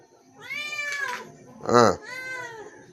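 A mother cat meows for her missing kitten: three close, drawn-out calls, the middle one loudest and most strained.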